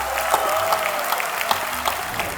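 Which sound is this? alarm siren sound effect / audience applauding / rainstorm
audience applauding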